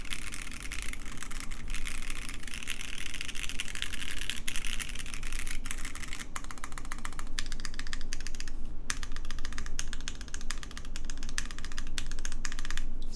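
Steady, continuous typing on a foamless Wind Studio Xlice mechanical keyboard, dense clicks and clacks running throughout at a fast, even pace, close and fairly loud.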